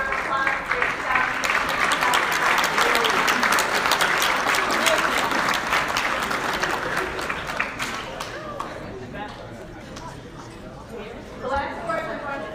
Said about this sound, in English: Please give a round of applause for your staff.